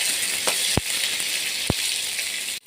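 Garlic sizzles steadily in hot oil for a fish curry, a continuous close hiss with two brief sharp clicks from a utensil partway through; no one speaks.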